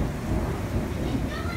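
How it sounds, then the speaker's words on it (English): A low, rolling rumble of thunder over steady rain, with faint voices in the background. "there's a lightning and thunder and everything too."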